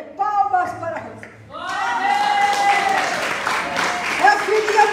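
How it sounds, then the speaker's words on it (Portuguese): A church congregation claps for a longtime member, a dense burst of applause rising after a few seconds and continuing under a speaker's voice. "Palmas para a Rosa."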